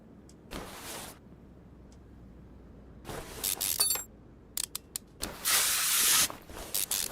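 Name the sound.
spraying WD-40 on rusted car parts in a car simulator video game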